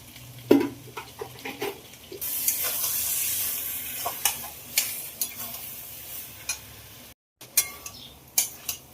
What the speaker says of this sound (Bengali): আলু পটল দিয়ে আর একটু ভালো করে কষে নেব।